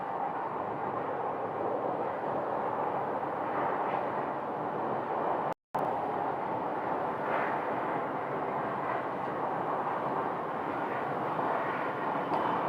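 A small cargo airplane taxis at Phoenix Sky Harbor airport, its engine a steady, broad roar holding at moderate distance for the whole stretch, with only a split-second dropout midway and no speech.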